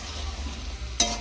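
Potatoes and peas being stirred in hot spiced oil, a low steady sizzle with one sharp scrape of a spatula near the end, close by and without talk.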